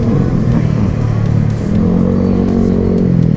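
Suzuki Access scooter passing close on a busy city street, a steady engine drone and road rumble that swells and fades, with other traffic around and no talk.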